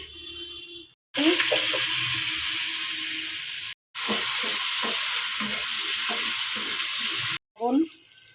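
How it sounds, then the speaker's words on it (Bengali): Whole cumin, dried chilli, cinnamon and cardamom sizzle in hot oil, a loud steady frying hiss in two long stretches broken by brief silences, with stirring clatter beneath. "আমি ফোড়ন দিয়ে দিচ্ছি গোটা জিরা, শুকনো লঙ্কা, দারচিনি, এলাচ"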